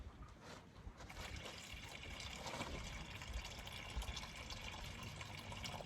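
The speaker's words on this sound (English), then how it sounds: "Here's some more water." Water pours into a pet's bowl at a car campsite, a faint continuous trickle and splash that swells slightly after the first second and then holds steady.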